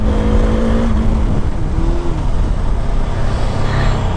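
Bajaj Dominar 400 motorcycle ridden at full throttle with new disc rotors, a loud continuous engine roar with wind rush, its pitch shifting as it revs.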